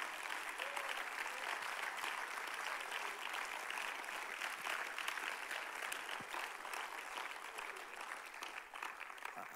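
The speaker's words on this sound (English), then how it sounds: "Why don't we give God a hand clap of praise?" A church congregation at a midweek service claps in praise, a sustained, dense wash of many hands heard at some distance and fairly soft, continuing steadily throughout.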